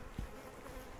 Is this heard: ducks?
no